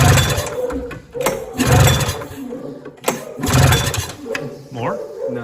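A high-mileage Polaris 340 snowmobile engine trying to start, several repeated pull-start cranking bursts with sputtering that fails to catch, close and loud, with someone talking between attempts.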